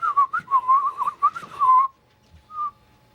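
A person whistles a wandering, tuneful melody in clear, close notes for about two seconds, then falls quiet before one short final whistled note.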